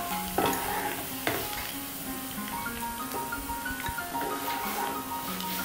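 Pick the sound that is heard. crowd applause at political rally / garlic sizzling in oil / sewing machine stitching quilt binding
garlic sizzling in oil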